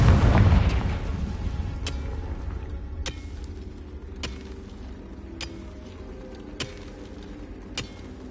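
Confringo spell explosion in a Harry Potter video game: a heavy boom at the start fades into a low rumble, followed by a string of fainter, evenly spaced pops.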